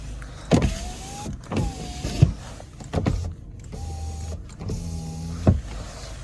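Audi electric door mirror motors whir in short bursts, several separate buzzing movements with pauses and faint clicks between them, close by.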